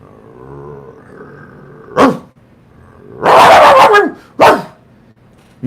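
A dog barks and growls nearby in three loud bursts, one long rough growling bark between two short sharp ones, with quiet tonal background in the gaps.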